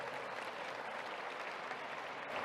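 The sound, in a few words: audience applause at gala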